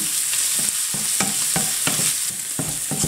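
Minced meat with ginger-garlic paste is stirred in a frying pan for a zucchini mince dish, giving a loud, steady sizzle with rhythmic spatula scrapes about twice a second.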